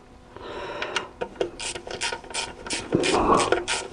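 Ratcheting clicks from a hand tool tightening a screw on the alternator of a Chrysler 300C CRD 3.0 diesel, a quick run of close, steady mechanical ticks with some rubbing and scraping, no talk.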